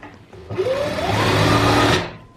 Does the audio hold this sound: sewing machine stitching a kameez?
yes